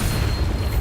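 A Bombarda spell explodes in Hogwarts Legacy, a short, heavy booming burst with deep rumble that fills the moment loudly and close, with no talking.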